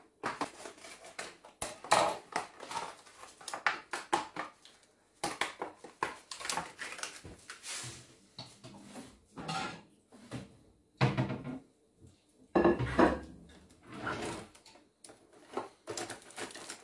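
Dishes and cutlery handled in a home kitchen while homemade sushi is arranged on a plate: close, intermittent knocks, clinks and scrapes in uneven bursts with short quiet gaps.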